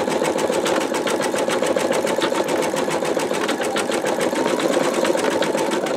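An embroidery machine stitches the body of a bumblebee quilt block, a steady, loud, rapid mechanical chatter of needle strokes with a motor hum underneath, running continuously with no talking.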